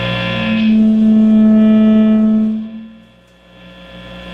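High-gain amplifier feedback from a Gibson ES-339 guitar turned up close to the amp, a loud sustained screeching tone holding steady for about two seconds before dying away into a lower hum.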